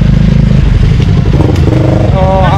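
A motorcycle engine rumbles loud and close throughout an endurance ride, with a brief rising rev near the end and voices talking over it.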